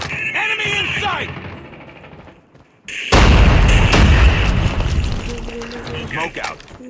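Frag grenade explosion in Call of Duty Mobile: a sudden loud, close boom with a long rumbling tail that follows quieter game sounds and voice callouts, then fades into scattered combat noise.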